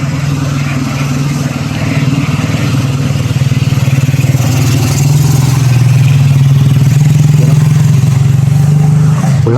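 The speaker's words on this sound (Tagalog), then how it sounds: "May motor, may motor, may motor." A motorcycle engine holds a steady, loud mid-pitched drone that swells slightly as it revs and passes close by, with a voice talking faintly under it.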